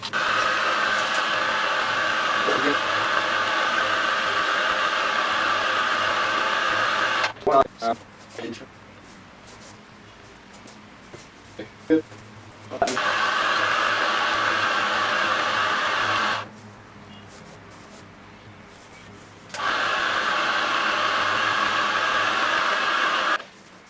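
Heat gun warming foam chest plate pieces for Mandalorian armor, a steady blowing whir that runs for several seconds, cuts out during handling noises, then starts again twice.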